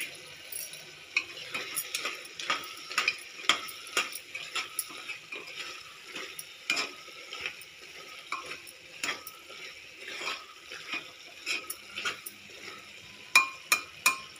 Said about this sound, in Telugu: ఇప్పుడు కలిపేసుకుందామండి